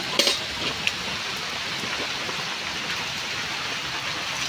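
Steady rain pouring during a storm, a dense even hiss of drops close by with a couple of sharper drips near the start and no voices.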